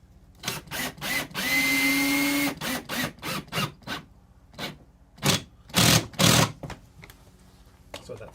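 A power drill drives screws during a DIY air column separator build, a single steady whirring burst of about a second between short bursts of nearby talk.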